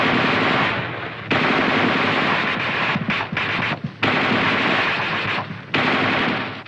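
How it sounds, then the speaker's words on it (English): The coax machine gun of an M551 Sheridan light tank fires long sustained bursts of 20 to 25 rounds, loud and close, separated by brief pauses. "The gunner continues to fire in 20 to 25 round bursts"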